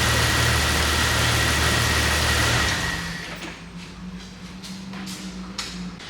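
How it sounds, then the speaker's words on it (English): A Jeep Wrangler 4.0L engine runs with a steady low rumble, then cuts off partway through, leaving quieter background noise and a few faint clicks. "Let me shut this engine off."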